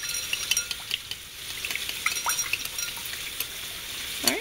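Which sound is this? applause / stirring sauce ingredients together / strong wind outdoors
stirring sauce ingredients together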